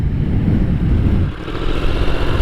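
A motorcycle engine pulls away in first gear as the clutch is released, loud and close, with a dip and then rising revs.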